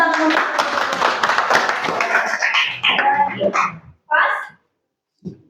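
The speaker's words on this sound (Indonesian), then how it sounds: "Beri tepuk tangan." Students in a classroom clap together, a burst of mixed hand claps and voices that thins out and stops, followed by a couple of short isolated sounds.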